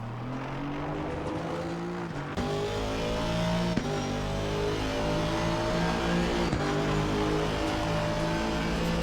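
An Aston Martin V8 GT3 race car in Assetto Corsa Competizione at Spa, heard from the cockpit, roars loudly and continuously, its engine note climbing repeatedly through several quick upshifts.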